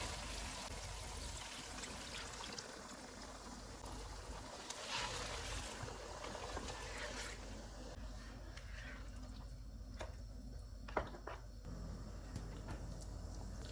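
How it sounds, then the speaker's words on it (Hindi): Water poured from a cup into chicken masala in a pan, a steady, fairly quiet trickle and splash with a sizzling wash, a brief clatter near the end. "अब इसमें 1 कप पानी डालेंगे।"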